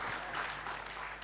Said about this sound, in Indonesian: Ayo beri tepuk tangan yang dahsyat bagi Tuhan kita